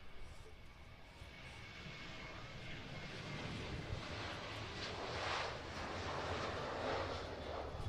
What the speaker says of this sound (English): That's a Boeing 737-800 of Jet 2, and that aircraft departing to Dalaman in Turkey.